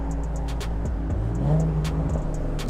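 A Nissan 370Z drives past at moderate distance, its engine note steady with a slight rise and fall, over constant road and background noise.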